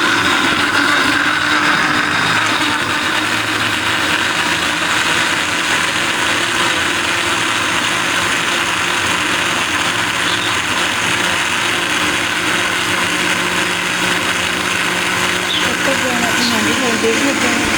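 A kitchen mixer grinder blends tomatoes, ginger, garlic and green chillies, giving a loud, steady whirring grind that runs without a break from start to finish.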